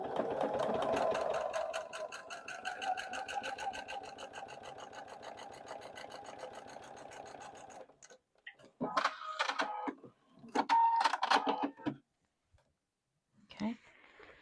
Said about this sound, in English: We're going to stitch on this line.